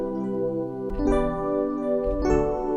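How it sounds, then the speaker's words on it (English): The Dire Dreams synth keys preset from Analog Lab plays lush, sustained harmonic chords that change twice over a few seconds, with soft attacks and a warm, smooth tone, heard alone. "I'm gonna use this preset called Dire Dreams, also inside Analog Lab"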